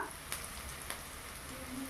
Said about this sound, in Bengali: লাল লাল ভেজে নেওয়ার পর দেখুন পেঁয়াজ ভাজা ভাজা হয়ে গেছে